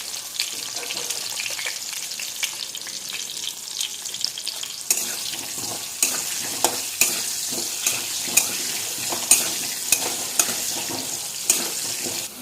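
Potatoes with turmeric fry in a pan with a constant close sizzle, and a utensil clinks and stirs in regular sharp taps through the second half.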